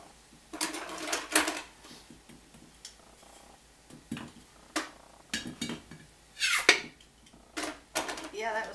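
A sealed glass jar is twisted and pried open in a kitchen, giving a run of sharp clicks, clinks and small pops up close, with a voice talking in between.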